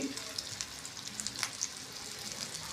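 Surmai (kingfish) fish frying in a pan for a crispy masala fish fry, a soft steady sizzle with faint crackling pops, close and fairly quiet, with no talk.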